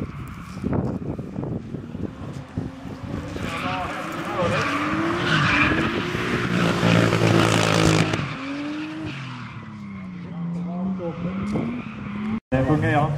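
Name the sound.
drift car skidding on track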